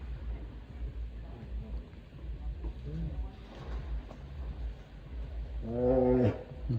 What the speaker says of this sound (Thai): มันคำราม